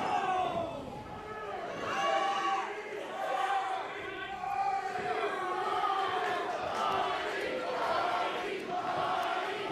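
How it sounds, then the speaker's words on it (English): A sold-out crowd at an independent wrestling show chants and shouts in rhythmic, swelling waves. The cheering is loud and continuous and fills the arena. "Our sold out crowd shouting for the Bunny."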